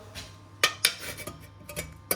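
Old scrap metal pieces in a garage clink and clatter as they are picked up and sorted, with a few sharp bright metallic hits and softer rattles in between, close by with no talk.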